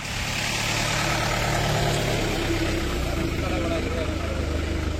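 A car engine idling on a hill road in Kerala, a steady low rumble close by with people talking over it.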